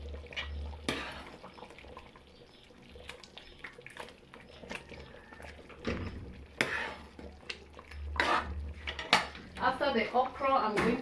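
Okra being stirred in a pot of peanut soup, with a utensil clanking and scraping against the metal in irregular bursts, close and fairly loud, with a low background hum.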